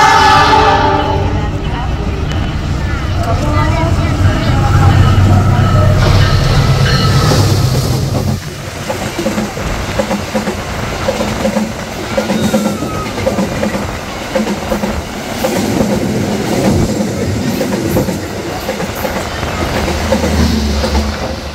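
The Argo Anggrek express passes through Pekalongan station. A loud horn blast opens, then a heavy, close rumble of wheels and carriages rushes past and continues steadily to the end.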